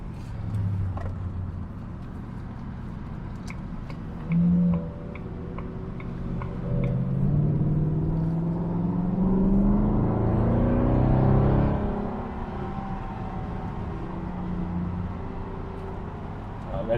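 Cars drive past at a busy London roundabout, with a rumbling swell of traffic rising and fading as vehicles go by, heard from inside a Jaguar XK8 with light ticking and faint engine noise.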